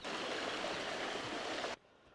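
Broadband rushing of a river flowing through indigenous forest in the Drakensberg, steady and fairly close, with no voices, cutting off abruptly near the end.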